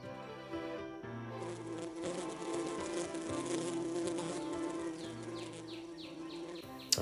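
Bees buzzing close and steady in a beekeeping setting in Dungarvan, Ireland, a continuous droning hum with individual insects rising and fading as they fly past, no talking.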